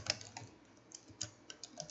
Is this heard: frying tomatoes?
no